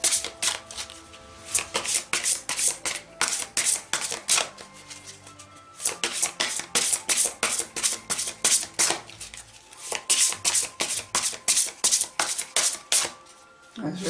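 Tarot cards are shuffled in repeated rapid bursts of crisp riffling and flicking, close and clear, with short pauses between runs and no talking.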